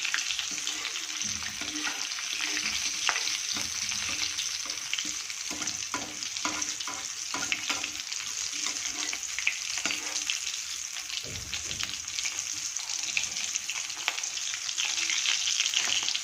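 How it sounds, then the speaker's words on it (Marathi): Potato spring rolls deep fry in hot oil with a continuous, close crackling sizzle and occasional utensil movements, with no talk. "आणि हे छान आपण फ्राय करून घेणार आहोत"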